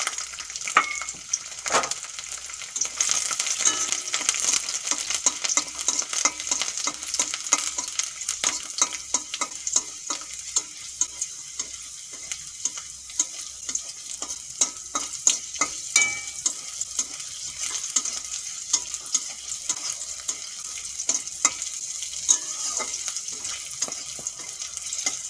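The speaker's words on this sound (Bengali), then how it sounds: "আবারও কড়াইতে তেল দিয়ে দেব। কয়েক রসুনও ভেজে নেব।" Garlic frying in oil in a wok for a green chilli bhorta gives a steady, close sizzle that runs throughout, broken by repeated scraping stirs and light clinks of the spatula.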